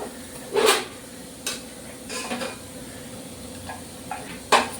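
Mango chutney with soft lentil dumplings being poured from a pan, heard as a few sharp clinks of a utensil against metal over a faint steady background hiss.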